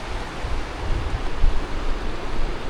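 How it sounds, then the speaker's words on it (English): The Rio Grande flows through a rocky gorge where it meets another river, a steady broadband rush of moving water with soft low swells and no voices. "there's the Rio Grande coming in from that canyon"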